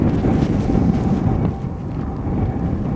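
Strong gusts of Storm Amy at Aberdeen Airport roar and buffet the microphone in a loud, low, continuous rumble that eases slightly midway.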